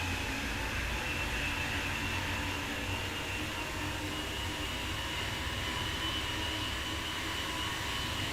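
Train running in Train Sim World 5, a steady, continuous rumble with wheel and rail noise that holds evenly throughout, no voices.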